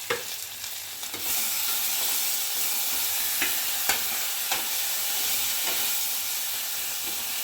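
Ginger-garlic paste frying in butter in a pan, giving a steady, close sizzle with occasional soft stirring clicks throughout and no talking.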